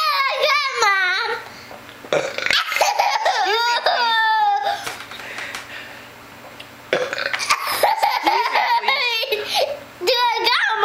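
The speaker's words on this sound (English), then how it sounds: "It was a little burp." A child lets out several burps between bursts of kid chatter and laughter at home, some of them long and drawn-out and others short, loud and close.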